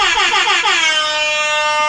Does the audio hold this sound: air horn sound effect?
yes